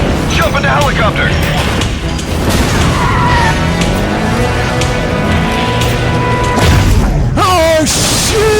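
Explosion in the Stuntman Ignition video game, a loud booming blast amid crashing wreckage and engine noise, with game voice chatter running over the top.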